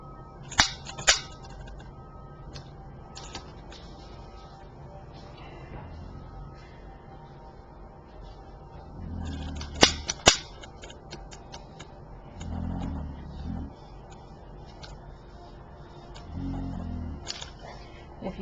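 A crackling fire gives occasional sharp pops and faint ticking snaps at irregular intervals, fairly close, with short stretches of muffled talk in between.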